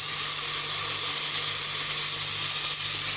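Fresh tinda (apple gourd), a kilo of it, goes into a pan of browned chicken for tinda gosht, bringing a steady, loud hiss and sizzle that holds unbroken throughout.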